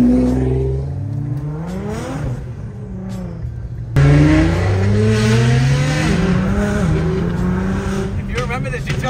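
A Nissan GT-R on a Los Angeles street revs loud and close, its engine rising and falling in bursts with crackling exhaust pops, while people talk excitedly over it.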